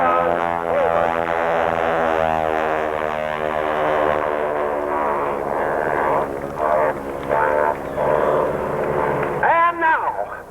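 Vintage airplanes, old machines of about 3,000 pounds, fly loudly past at a 1995 air show in Knoxville, Tennessee, their engine drone holding steady and near before a rising whine near the end, with an announcer talking over them.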